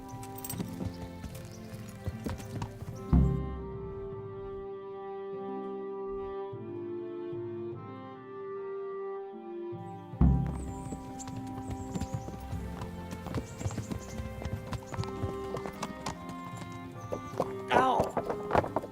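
Hooves clip-clop steadily as a horse is ridden in the video game Kingdom Come Deliverance, an even rhythmic beat heard under game music with a few sharper thuds.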